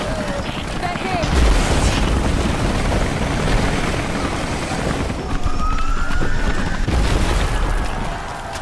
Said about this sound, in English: Those choppers should be in range soon. They're here.